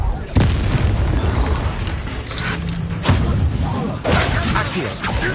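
Confringo explosion spells go off in Hogwarts Legacy: three heavy booming blasts hit at intervals over a dense, constant rumble of battle noise.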